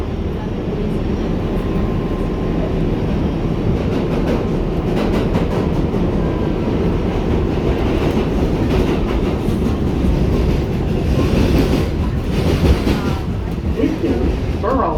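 An R142A subway train running between Bowling Green and Borough Hall, a loud steady rumble and rattle of the car with faint rhythmic clatter throughout, and no pause in the noise.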